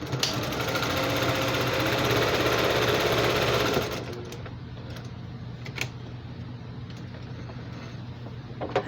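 A sewing machine stitches quilted basket fabric, running steadily with a dense, whirring buzz for about four seconds before stopping; then come quieter handling sounds and a couple of light clicks.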